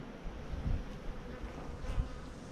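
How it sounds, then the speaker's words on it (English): Honeybees buzz around a hive inside an old ruined bush mill of mahogany and lignum vitae wood on St. Croix, a close, wavering drone with louder passes as bees fly near. "Almost all these mills have honeybee hives in them."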